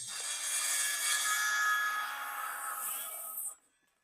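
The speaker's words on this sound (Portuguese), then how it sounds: "posso marcar isso na extremidade de uma das vigas e cortar ao longo da linha" Hand-sawing the end of a wooden pergola beam along a marked angle line gives a steady, continuous rasping stroke that fills the clip, then stops abruptly near the end.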